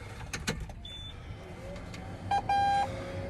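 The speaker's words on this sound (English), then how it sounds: "Hear that beep? That's my Greenstar 3 turning on." A couple of short electronic beeps, then a longer steady tone, sound from a Greenstar 3 display starting up inside a tractor cab after some clicks and rustling.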